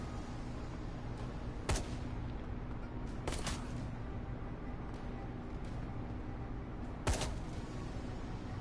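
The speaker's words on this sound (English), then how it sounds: "let's have Koshei come out here and start shooting" Sparse gunshots in the Shadowrun Hong Kong video game, three sharp isolated cracks spaced several seconds apart over a steady low ambient hum, with no talking.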